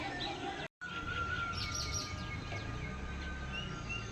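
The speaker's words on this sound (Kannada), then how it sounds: "ಕಿಚ್ಚಿ ಕಿಚ್ಚಿ ಕಿಚ್ಚಿ ಕಿಚ್ಚಿ ಕಿಚ್ಚಿ ಪಿಚ್ಚಿ ಅಂತಿದ್ದಾವೆ ಈ ಪಕ್ಷಿಗಳು" Many birds chirp and tweet in the evening in a busy, overlapping chorus at moderate distance, with a brief dropout near the start.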